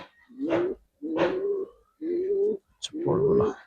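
Giribaz and coloring pigeons give four close, rhythmic coos, each a low rounded call about a second long with brief pauses between.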